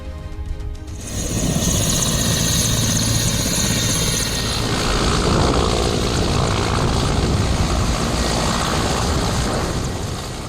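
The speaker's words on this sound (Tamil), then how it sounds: "திருப்பூரில் எஸ்பிஜி சார்பாக ராணுவ ஹெலிகாப்டர் ஒத்திகை." A military helicopter drones loudly overhead in Tiruppur, its rotor and engine roar building then holding steady and close throughout, with no voices.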